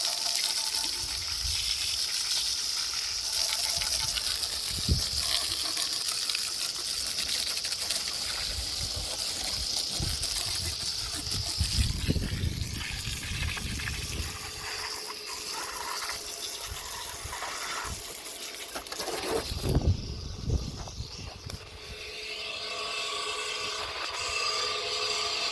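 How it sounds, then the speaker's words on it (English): A small water pump draws water from a large rainwater tank, giving a continuous low-pressure flow with gushing surges around the middle and again near the end, and no talk. "That little pump is all it pumps, and we get the water from this big rainwater tank here."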